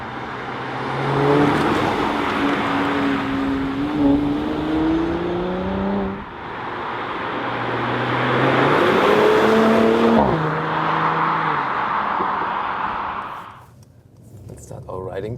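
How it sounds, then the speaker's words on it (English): A 367-horsepower V6 in a 2016 Mercedes C450 AMG C-Class, driven in comfort mode, gives a steady close-up drone whose pitch climbs and falls through several rev changes, then drops away near the end. "a V6 with 367 horsepower already sounds good in the comfort mode"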